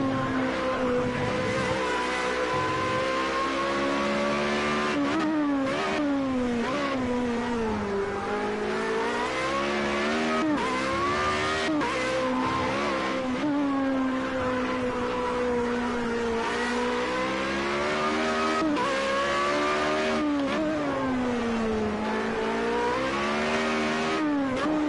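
Formula Renault race car engines in Project Cars 2 at Catalunya, a loud continuous high-pitched whine that rises and falls through gear changes and acceleration, with other cars close by.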